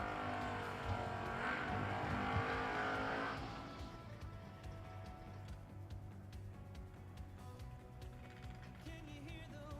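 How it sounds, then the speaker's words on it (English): Door-car drag racers launch at a drag strip event, a loud roaring engine burst for the first few seconds that then falls back to a quieter, distant mechanical drone. "First pair of door cars on the box side."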